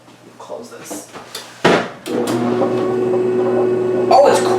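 A 1996 Maytag washing machine running, its motor a steady low hum after a thud of a lid or door closing, with people talking nearby.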